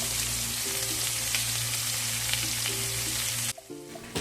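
Garlic, ginger and onions sauté loudly in a pan, a dense, continuous sizzle that drops off abruptly near the end before a faint crackle resumes; no one speaks.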